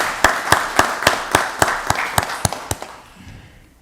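An audience claps at a county board of commissioners meeting, a sparse round of roughly a dozen sharp, evenly spaced claps that gradually weaken and fade out.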